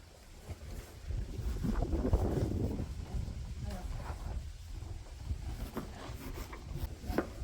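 Gusty outdoor wind rumbles and buffets the microphone throughout, with faint voices and occasional light knocks mixed underneath.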